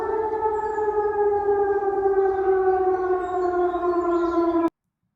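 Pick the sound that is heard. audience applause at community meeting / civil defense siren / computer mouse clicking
civil defense siren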